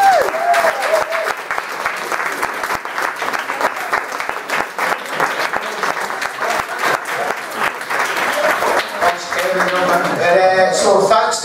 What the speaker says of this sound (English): I'd like to keep the applause going